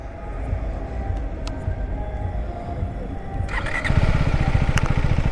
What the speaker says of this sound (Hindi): तो अभी हम बाइक ऑन करेंगे